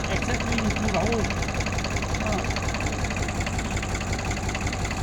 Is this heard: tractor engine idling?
yes